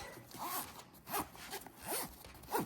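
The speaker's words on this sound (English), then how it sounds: "So just zip, zip, zip." A zipper on a continuous zipper novelty pouch is drawn in short quick pulls, four distinct rasping zips in a steady rhythm, close and fairly quiet.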